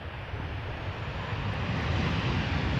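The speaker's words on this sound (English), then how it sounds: "one of Transavia's many 737-800s touching down" Transavia Boeing 737-800 airliner touching down at Amsterdam Schiphol Airport: a steady, broad engine roar that swells slightly louder toward the end, with no voices.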